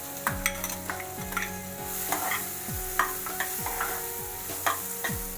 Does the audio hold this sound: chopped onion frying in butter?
yes